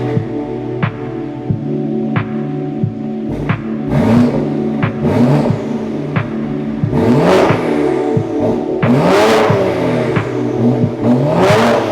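A tuned X4M running a Wrench Stage 2 map with ECU software and gearbox map, rated at about 650 to 700 brake horsepower, revs repeatedly, its engine rising and falling in pitch over a throbbing idle, close and loud with no talk.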